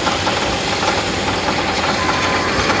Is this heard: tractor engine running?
yes